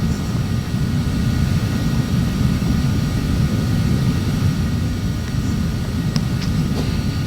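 Embraer Phenom 300 business jet engines in a flight simulator game, a steady, loud low roar and rumble that holds constant, with faint higher tonal whine and a few small clicks near the end.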